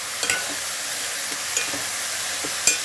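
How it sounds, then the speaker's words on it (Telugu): Eggplant pieces are stirred in a hot pan of tempering, a soft continuous sizzle with a few faint scraping clicks from the spatula, close and quiet, with no talking. "ఇప్పుడు తిప్పుతానండి."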